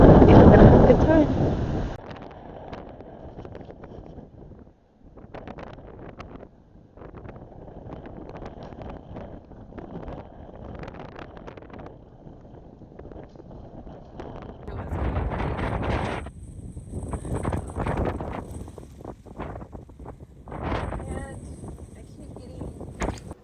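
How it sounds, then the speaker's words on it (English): Strong gusty wind buffets the microphone on a chilly sandy beach, a loud rumbling roar that surges and fades in waves, with occasional rustling and a brief stretch of talking at the start. "the wind was going crazy and I couldn't read my book because sand just kept hitting me in the face"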